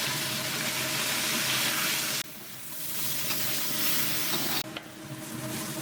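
Pork being stirred through caramelized sugar and soy sauce in a hot pan: a loud, dense sizzle with two abrupt drops where the food is turned, then the frying noise builds again.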